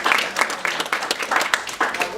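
Audience round of applause, brisk steady clapping from a room of people over a couple of seconds, with talking underneath.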